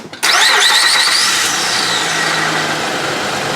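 A 2006 Honda Ridgeline pickup engine cranks and catches abruptly, then settles into a loud, steady idle close by, with a faint whine trailing off over the next few seconds.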